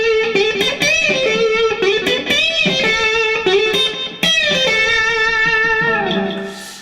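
High-octave pentatonic lick on electric guitar with a string bend, a run of distinct plucked notes with some effect on the tone, played alone and fading out at the end.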